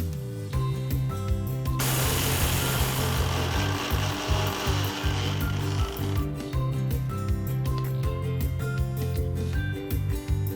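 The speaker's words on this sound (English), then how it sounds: "allow it to cool a bit and then grind it into a smooth" A spice grinder pulverizing roasted red chilies and spices into powder, with a loud, steady motor whine and a harsh gritty rush that surges for a few seconds before settling back to the running motor.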